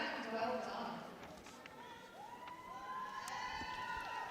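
Applause and crowd noise at a Crufts 2020 dog agility run for the YKC Agility Dog of the Year, a steady distant clapping and cheering wash with a voice talking over it.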